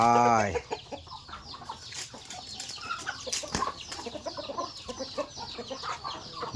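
Chickens cluck and squawk close by in a busy farmyard, a steady overlapping chatter after a brief loud opening tone, with some faint speech in the background.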